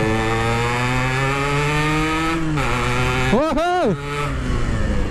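A Yamaha RX King two-stroke motorcycle engine drones steadily up close, then revs sharply up and back down in a quick blip before settling, with a short voice exclamation near the end.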